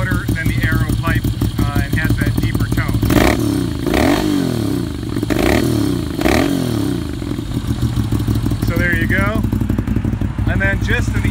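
Moto Guzzi V7 750 scrambler with an aftermarket exhaust and the dB killer removed, idling with a loud lumpy burble and rising into several revs before settling again, a voice talking over it.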